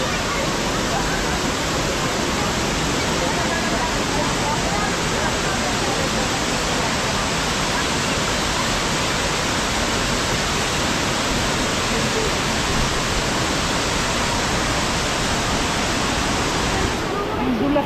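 A waterfall at a resort in Tiaong, Quezon, Philippines roars as a loud, steady broadband rush of falling water that fills the whole span without pause.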